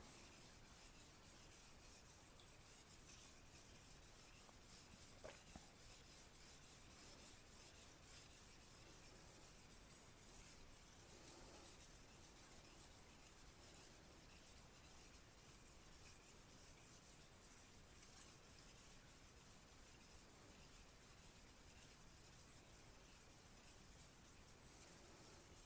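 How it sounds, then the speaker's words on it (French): A knife blade is drawn across a wet Naniwa Super Stone 1000-grit water stone in a continuous soft, gritty rubbing that stays quiet and even throughout, with no voices. "l'intérêt va être de le reprendre avec la pierre de grain 1000. Donc là, on y va, on humidifie la pierre"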